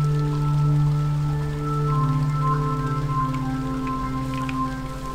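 Steady rain patters through a Minecraft-style block game world, a continuous soft hiss beneath sustained droning background music tones, with no speech.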